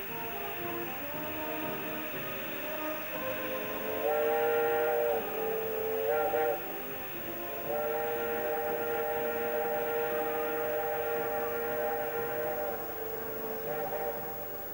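A steam train on a preserved steam railway rumbles steadily while its whistle sounds in several long, bright blasts, loud and close, with no talking.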